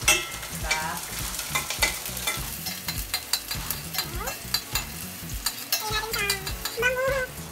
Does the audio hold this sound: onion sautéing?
yes